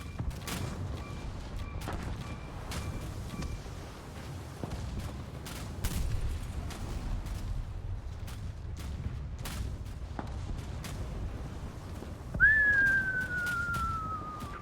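Naval guns fire artillery shells in a video game, with scattered sharp booms and cracks spread across a low rumbling battle bed, and a long descending shell whistle near the end.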